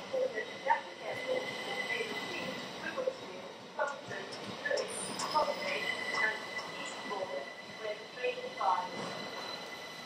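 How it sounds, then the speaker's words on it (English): A train pulls into Hastings station with rumbling wheels, metallic squeals and clanks, heard from nearby over a steady ambient hum. "here comes my train"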